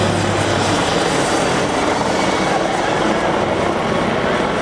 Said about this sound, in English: This aircraft is powered by 2 gas turbine engines, that is to say a jet engine, or engines.